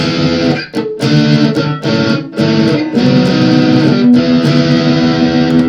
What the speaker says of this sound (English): It's out of tune, as you can hear.